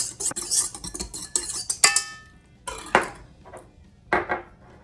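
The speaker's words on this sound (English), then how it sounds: "Let's give it just another whisk." Dry ingredients with instant yeast for gluten-free ciabatta rolls whisked in a bowl, giving quick scraping, clinking strokes in bursts with short pauses, close and fairly loud, no voices.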